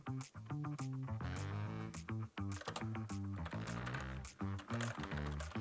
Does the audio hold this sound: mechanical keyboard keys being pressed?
yes